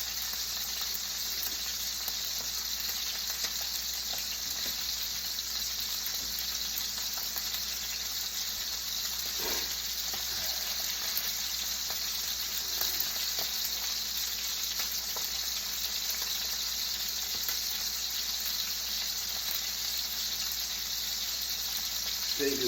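Steaks frying in a pan, a steady, continuous hiss and crackle of sizzling fat that holds level throughout, with a few faint clinks and bumps beneath.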